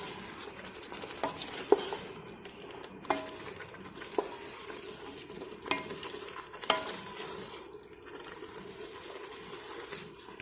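Tomato puree and chicken being sautéed for chicken biryani: a faint, low sizzle runs throughout with periodic soft scraping and tapping as the mixture is stirred in the pan.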